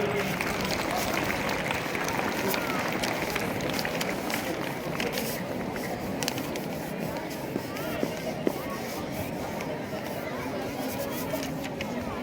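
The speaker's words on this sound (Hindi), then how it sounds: "जोरदार तालियां।" Loud, sustained applause from a crowd at a Republic Day school ceremony, a dense crackle of many hands clapping that carries on steadily without a break.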